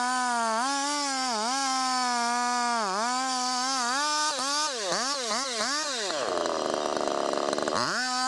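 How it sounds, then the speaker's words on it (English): A medium-sized chainsaw cuts deep into a tree trunk during felling, its loud continuous whine rising and falling in pitch as the load changes, with brief dips when the engine is revved. "A medium-sized chainsaw is a necessary tool to make deep cuts into the tree trunk"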